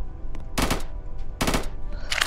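Two loud sniper rifle shots in the video game Strucid, each a sharp broadband crack with a short ringing tail, roughly a second apart, followed by a brief reload-like click at the end.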